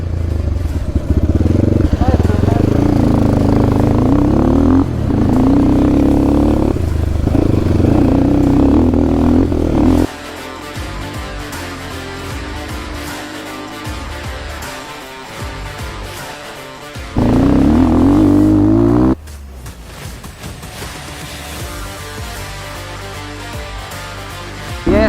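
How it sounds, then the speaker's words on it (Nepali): A dirt bike motorcycle climbs uphill on a rough off-road trail, its engine droning loudly and close in long bursts that drop away between them, with people talking throughout. "यस हाम्रो बाइक चाहिँ माथिसम्म आयो"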